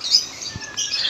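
Birds at a bird enclosure chirp in brief high tweets, fairly close and clear, over a quiet background.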